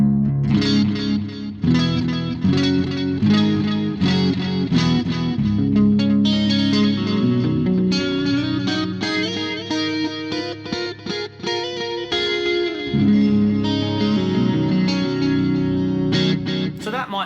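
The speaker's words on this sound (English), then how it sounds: "you've got your nice clean or dirty guitar and the delays are being put on top of" Electric guitar plays a flowing line through a BOSS GT-1000 drenched in echoing delay, repeats trailing behind each note, steady and fairly loud.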